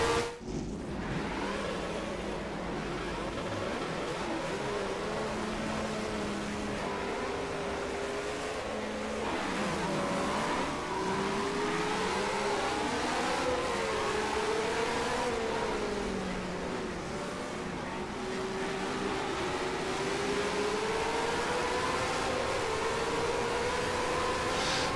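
A DIY motion simulator's trolley rail system running along with a racing video game: a steady engine drone with rising and falling revs, gliding pitch sweeps and a hissing wash, continuous and fairly close with no speech.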